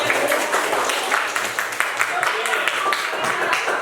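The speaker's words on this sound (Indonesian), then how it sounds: "Tepuk tangan buat kita semua." Steady, dense clapping from a group of students in a classroom, filling the whole stretch with mixed voices and chatter underneath.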